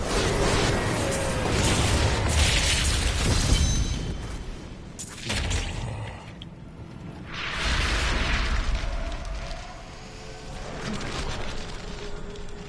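A cannon fires during combat in the video game Diablo III, giving heavy repeated booms and rumbling bursts that swell and fade in dense waves over a continuous noisy battle background.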